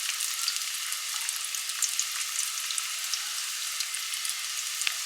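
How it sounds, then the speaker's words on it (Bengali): Dhoka, Bengali lentil cakes, fry in a pan of oil with a constant close crackle and hiss, peppered with tiny pops throughout. "তো চলো এবার এটাকে ফ্রাই করে নেওয়া যাক।"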